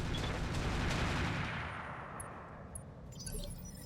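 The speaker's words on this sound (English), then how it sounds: "I shot him from the right and hit left and center." Gunfire from a robot in a video game: a dense, loud burst of rapid shots that gradually fades and thins out over a few seconds.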